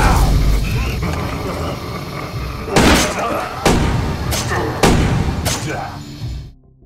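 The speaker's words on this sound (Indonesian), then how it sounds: "Dia langsung ambil pistol dan nembakin semua zombie yang muncul." Pistol shots in a zombie film as zombies are shot down: four heavy bangs spaced about a second apart, heard under continuous narration and a dense background of other noise.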